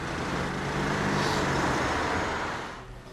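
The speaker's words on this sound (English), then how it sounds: "the reality on the road today is still traffic jams," Road traffic passes in a steady, loud roar, a broad wash of vehicle noise that swells and then fades as it moves by.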